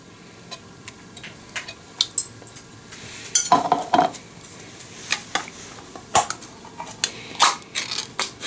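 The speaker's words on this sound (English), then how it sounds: "Scrape all that goodness out of there." Metal spoon scraping condensed cream soup out of a can for a golden mushroom chicken dinner, a run of short, uneven clinks and scrapes up close with no talking.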